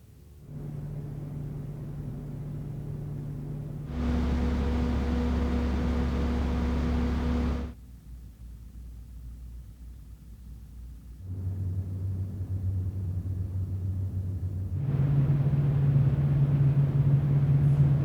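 Cougar SC140 and Cougar Apolar 120 PC case fans running in alternating segments, a steady whooshing airflow with a low motor hum that shifts in loudness and pitch as fans and speeds change, with quiet gaps between.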